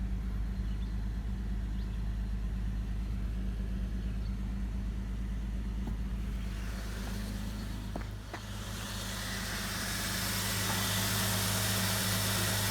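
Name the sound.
salvage Jeep engine running after battery jump start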